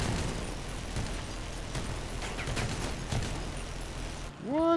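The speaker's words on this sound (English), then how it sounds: "I love the sound of these arbiters" Arbiter weapons fire in a video game, giving a string of loud mechanical bursts and clanks over a dense noisy rumble, followed at the end by a brief rising whine.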